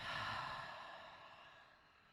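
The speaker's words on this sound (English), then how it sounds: "Take a deep breath in, and exhale back down." A deep, breathy exhale during a yoga pose, loudest at the start and then slowly trailing off over about two seconds, with no talking.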